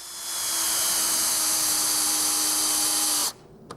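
Delta power saw cutting wood trim: a steady high-pitched motor whine runs loud for about three seconds, then cuts off abruptly as the blade stops.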